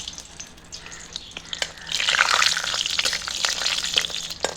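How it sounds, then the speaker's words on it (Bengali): Cashews sizzle in hot oil in a pan, a crackling, spitting fry that starts soft and grows louder and busier midway, with scattered sharp pops and no talking. "সবার প্রথম কাজু ভেজে নেবো।"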